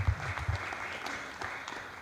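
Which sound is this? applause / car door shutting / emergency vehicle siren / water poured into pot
applause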